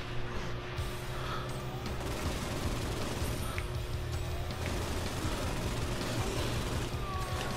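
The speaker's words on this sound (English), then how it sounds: "Cause I got a couch that could shoot missiles." Missile-firing couch in the video game Saints Row, heard as a dense, continuous barrage of gunfire and explosive booms, loud and sustained throughout with no speech.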